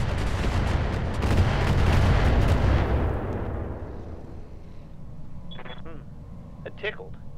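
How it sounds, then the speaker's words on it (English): Gunfire and explosions in the mech strategy game Roguetech, a BattleTech mod, roar loudly for the first few seconds, then decay to rumbling ambience with short electronic beeps near the end. "Gun's gonna take another shot at her."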